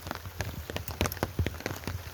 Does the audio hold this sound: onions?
no